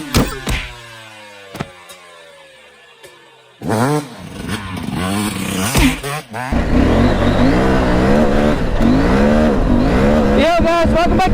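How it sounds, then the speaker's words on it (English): A Husqvarna Norden 901 Expedition motorcycle is ridden at about 100 km/h over a speed bump, its engine roaring loud and close with a revving surge and rising wind rush after a brief thump. "the last speed bump coming up. We're going to do that at 100 kilometers an hour."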